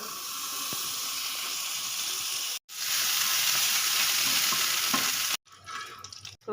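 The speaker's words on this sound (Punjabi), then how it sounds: "ਇਧਰ ਪੈਨ ਗਰਮ ਹੋ ਗਿਆ ਤੇ ਇਹਦੇ ਵਿੱਚ ਪਾਵਾਂਗੀ ਮੈਂ ਬਟਰ" Butter sizzling in a hot pan on the stove while making tea, a loud, steady, close frying hiss that cuts out briefly twice, then resumes with softer crackling.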